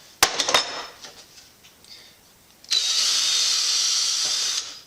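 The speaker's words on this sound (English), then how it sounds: "I want to drill holes and screw it in" A power drill bores into log siding on a man cave garage: a few sharp clicks and short bursts, then a steady, loud whining drill run of about two seconds before it stops.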